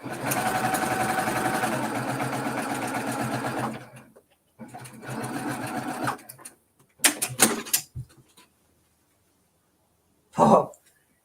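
A sewing machine fitted with a knee lift stitches the final seam of a wool quilt block, a fast steady whir running for several seconds, then a shorter burst, followed by a few quick stops and a brief final buzz.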